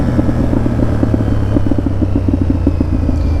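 Motorcycle engine running in freezing winter weather, a steady loud rumble with a rapid string of exhaust pulses throughout, no talking.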